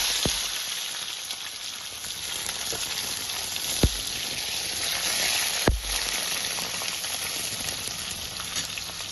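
Chopped tomato going into a hot pan of mutton with garam masala, mace, cardamom and cinnamon, giving a steady, loud sizzle and hiss of frying with a few sharp clinks of a utensil, and no voices.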